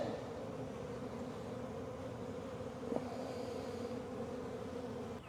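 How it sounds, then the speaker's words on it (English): A honey bee swarm hums in a steady, continuous drone close by, with one brief louder buzz as a single bee passes near. "I got a bee buzzing me."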